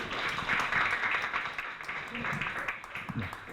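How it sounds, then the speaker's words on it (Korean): Brief clapping from a lunch-seminar audience at KAIST welcomes a fintech startup speaker, a dense patter that fades slightly over a few seconds. "큰 박수로 환영 부탁드립니다"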